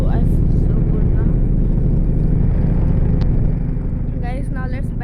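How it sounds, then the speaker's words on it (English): Supercar engine at a dealership, running loud and steady close by with a deep continuous rumble, as someone talks over it and it eases off slightly near the end. "let's hear the engine"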